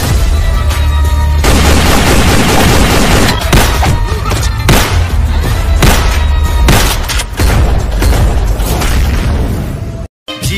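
Gunshot sound effects in a comedy skit: loud, booming blasts and sharp bursts fire repeatedly in a dense, crackling barrage that fills nearly the whole stretch, ending with a brief gap of silence.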